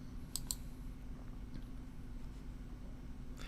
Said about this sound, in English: So I'm going to left click, I'm going to duplicate.